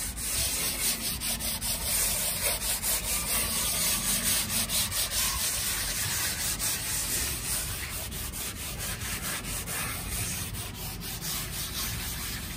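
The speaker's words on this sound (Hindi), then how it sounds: "अभी सैंड पेपर, एमरी पेपर से इसके पूरे को फिनिशिंग इसकी करेंगे" Wooden furniture being sanded smooth with emery sandpaper, a steady, close scratchy rubbing that keeps going without a break and with no voices over it.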